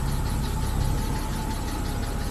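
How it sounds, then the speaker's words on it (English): A BMW E60 car engine idles, a loud, steady low rumble with an even throbbing pulse, close by and unbroken for the whole stretch. "I'll let it idle here for a bit."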